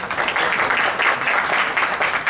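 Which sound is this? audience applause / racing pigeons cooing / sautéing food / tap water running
audience applause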